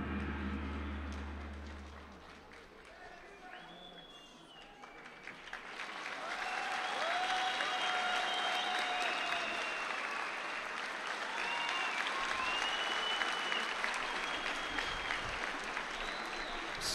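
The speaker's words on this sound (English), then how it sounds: "Sporting round of applause from the Almaty crowd as Lutfilayev goes over to shake hands with" A crowd at the Almaty judo Grand Prix gives a sustained round of applause that swells after a few seconds and holds steady, a broad wash of clapping filling the hall.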